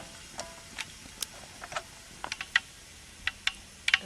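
Mustard seeds and cumin crackling in hot oil while tempering dhokla, with faint, irregular sharp pops and ticks scattered over a quiet background.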